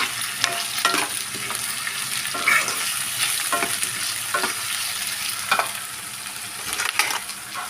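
Cashews and onion frying for chicken curry, a continuous close sizzle with intermittent stirring scrapes and taps of a utensil in the pan.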